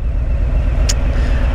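Harley-Davidson Road King exhaust with no catalytic converter and V&H 4.5-inch Titan mufflers with black tips, a close, steady low rumble throbbing evenly through the short stretch.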